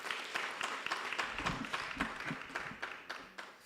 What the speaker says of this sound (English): Let us give Prof. Mawela another round of applause